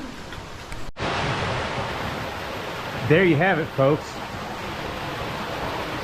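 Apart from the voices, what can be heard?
waterfall in a ravine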